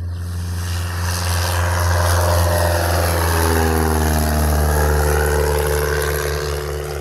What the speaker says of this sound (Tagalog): makita po nyo ang paglipad ng aeroplano rito sa may Plaridel, Bulacan